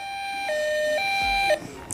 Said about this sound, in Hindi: आप एम्बुलेंस का साउंड सुन सकते हैं